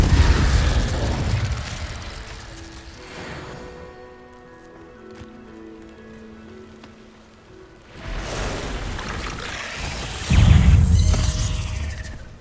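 Confringo blasting-spell explosions in the Hogwarts Legacy video game, a loud burst at the start, a quiet stretch of ringing magical tones, then renewed blasts building to a heavy boom near the end.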